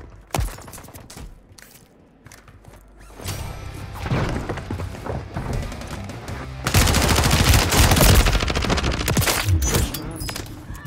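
Bursts of automatic gunfire in Call of Duty Warzone, sparse at first and then dense, loud and continuous after midway, with a brief voice over the shooting.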